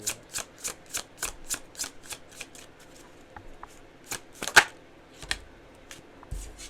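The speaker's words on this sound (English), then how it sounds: "I'm just gonna pull some last tarot cards just to get a couple last messages" Tarot cards being shuffled, a quick run of crisp riffling snaps in steady rhythm, close and fairly soft, slowing into a few scattered flicks and taps, with no talking.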